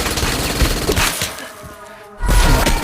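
A gun fired wildly in an action film, rapid loud bursts of gunfire that break off into a brief lull, then a heavy burst returns.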